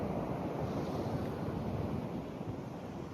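Sea waves wash beside St Angelo Fort in Kannur, a steady broad surf roar mixed with wind buffeting the microphone, with no voices.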